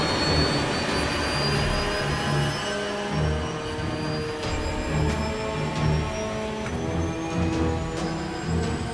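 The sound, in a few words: Boeing 737 jet engines during go-around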